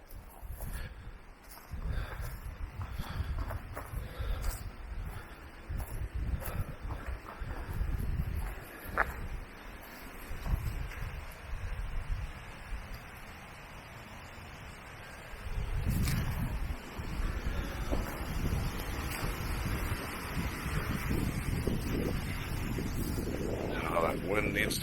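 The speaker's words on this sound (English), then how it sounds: "That wind needs to go away." Strong outdoor wind buffets the microphone in open country at a campsite, a continuous low rumbling roar that surges and eases throughout the recording, with no talking.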